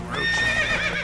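Geralt's horse Roach in the Witcher 3 video game gives a loud, close whinny with a wavering, harmonic-rich pitch, lasting about a second with no talk over it.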